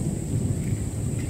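Steady rumbling thunderstorm with rain falling across an outdoor zoo in Australia, a continuous low roar with a hiss on top, fairly loud and constant throughout, no talking.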